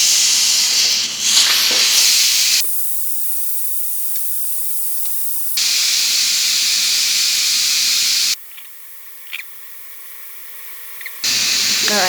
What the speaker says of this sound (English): as you can hear, it's getting less and less on the steam